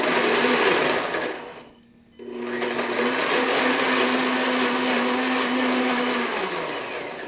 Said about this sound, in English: I'm just going to pulse this because I don't want to totally annihilate the raisins